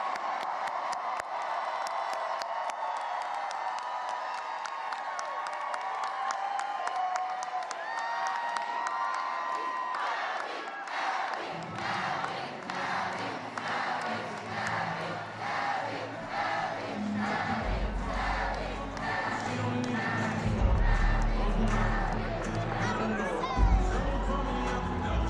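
A large crowd cheers at governor-elect Abigail Spanberger's election night party, a sustained roar of voices with rhythmic clapping and shouts building over the second half, under an amplified voice early on.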